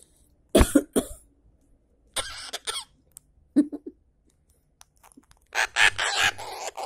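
A small parakeet gives several short, raspy coughing sounds in scattered bursts, separated by quiet gaps, close by.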